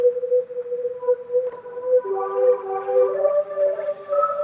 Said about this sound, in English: Let's try Hyper Chorus. Let's try vocode.